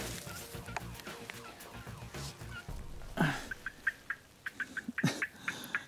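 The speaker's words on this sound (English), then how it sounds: "there were so many other gobbles behind him" Wild turkey toms gobble in the woods during a turkey hunt, with a few short bursts near and several fainter gobbles farther off, alongside small clucking calls.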